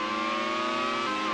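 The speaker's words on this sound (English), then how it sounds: "You can still hear the engine note of the car behind" In a racing video game, a race car's engine drones steadily and loudly from the car behind, a continuous high-pitched tone with no talk over it.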